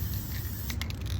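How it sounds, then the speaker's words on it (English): Elmer's spray glue hisses from an aerosol can in a few short close bursts near the end, over a steady low background hum. "I am just shaking my Elmer spray glue, and I'm just going to go over this"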